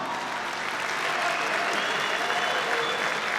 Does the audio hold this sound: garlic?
no